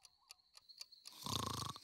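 A person snores loudly in a cartoon scene, one long rumbling, rattling breath that swells over a second, following a few faint ticks.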